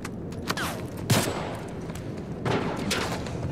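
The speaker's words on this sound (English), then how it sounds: "Let me get that hunting rifle out." Hunting rifle shots in The Last of Us Part 1: two sharp, loud reports about a second and a half apart, each trailing into echo over steady background ambience.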